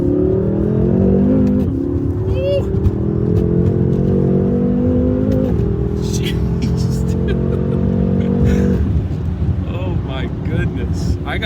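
A matte-wrapped 600-horsepower BMW M5 30 Jahre edition drives on the road, a loud engine droning with rising and shifting pitch as it pulls through gears, buffeted by wind noise and with a voice talking over it.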